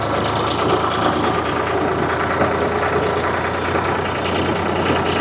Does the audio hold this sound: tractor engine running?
yes